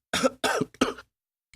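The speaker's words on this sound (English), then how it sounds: "he coughed uncontrollably for several seconds" Three harsh coughs in quick succession, close and loud, followed by silence.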